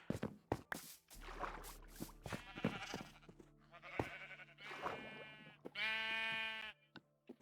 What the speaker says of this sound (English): now you're gonna want to fill this with sheep